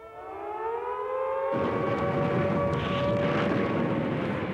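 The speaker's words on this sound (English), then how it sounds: "they did when the air raid sirens sounded" A World War II Blitz-era air raid siren wails, its rising tone swelling as a second, louder layer joins partway through, sustained and distant-sounding.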